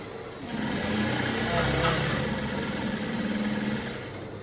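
A sewing machine runs a straight seam with a half-inch allowance on a bomber jacket sleeve band, giving a steady close motor whir that starts after a brief pause and holds evenly to the end.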